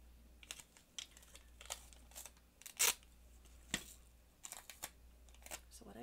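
Adhesive tape being pulled and handled while making a gift card envelope, with brief crackles, taps and one sharp tearing rip among quiet rustling, close up.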